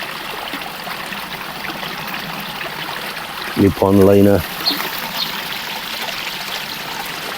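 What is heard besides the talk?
water trickling from garden pond waterfall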